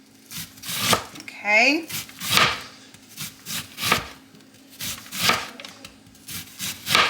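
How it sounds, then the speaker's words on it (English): Knife dicing a medium onion into small pieces on a cutting board, a string of quick, close, rhythmic chopping taps with brief pauses, a short spoken word heard partway through. "So medium diced onion is next."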